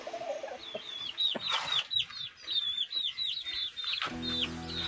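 Several chickens cluck and squawk close by, with bright high chirps overhead and shuffling farmyard noise throughout.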